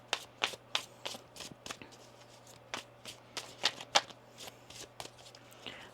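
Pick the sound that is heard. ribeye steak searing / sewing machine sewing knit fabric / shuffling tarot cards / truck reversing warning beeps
shuffling tarot cards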